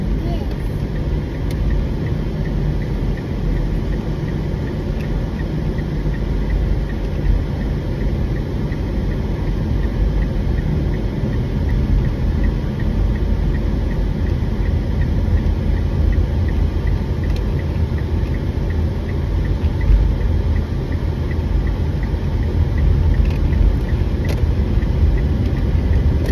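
A car engine hums steadily while driving, a continuous low rumble lasting throughout with faint voices talking over it.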